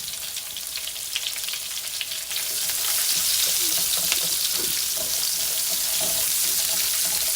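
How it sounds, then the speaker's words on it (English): Onions caramelizing in a pan with butter, spices and white wine for garlic wine pork chops, a steady close sizzle and hiss that swells louder after a couple of seconds and holds, with light stirring clicks. "Now I'm going to use all of this goodness and use this to caramelize the onions."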